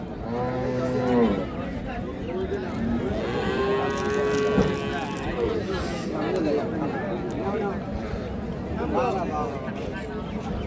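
A dairy cow moos loudly a couple of times, long drawn-out lows, while people chatter in the background throughout.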